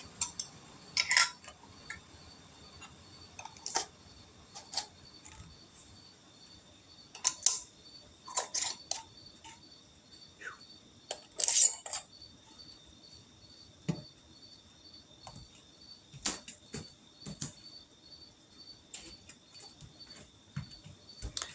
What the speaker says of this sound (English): Put some lids on here.